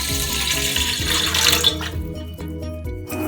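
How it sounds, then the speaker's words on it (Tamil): Water runs steadily from a tap into a metal idli steamer pot, a continuous rushing splash over a low rumbling background. "இப்போ நம்மளுக்கு தேவையான அளவு நம்ம இட்லி சட்டியில் தண்ணி ஊற்றிக்கலாம்"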